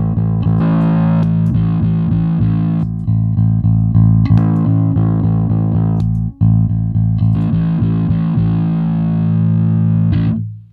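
Electric bass run through a Fender Downtown Express bass overdrive pedal with the tone rolled off, giving a loud, continuous scooped drive with sustained low notes and picked attacks, one brief dropout near the middle, no talking.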